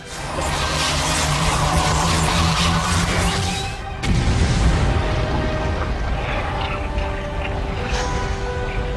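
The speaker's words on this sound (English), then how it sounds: "This caused the ship to explode" Kil'jaeden's ship bursting apart in World of Warcraft: a loud, sustained wall of roaring, rumbling noise that cuts off abruptly, then a second heavy blast swells up and rolls on into a long, dense rumble.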